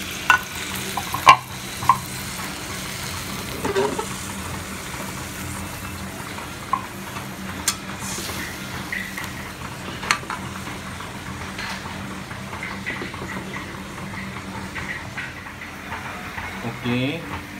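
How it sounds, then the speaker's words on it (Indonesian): Food stirred with water in a frying pan for a spicy sweet-sour stir-fry, a quiet bubbling sizzle with occasional spoon taps and clinks against the pan. "Kemudian kita aduk air ya."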